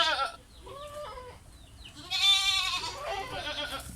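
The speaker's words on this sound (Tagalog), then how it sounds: "tingnan nyo yung kambing dito." Goats bleating loudly nearby, a few wavering calls in a row, one longer and louder cry near the end, with no one speaking.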